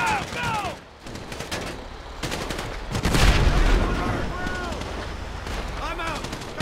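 Rapid bursts of automatic gunfire and heavy blasts from a GTA V shootout, loud and continuous, with voices shouting over the shooting.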